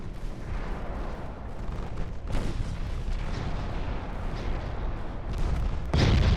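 Bofors secondary guns on a warship in a naval battle game firing rapidly, a dense continuous barrage of booms and rumbling, with a heavier blast near the end and no talking.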